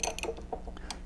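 A cap screw is threaded by hand into a 1/2 inch rod, giving faint, close metallic ticks and light scraping clicks in an uneven rhythm.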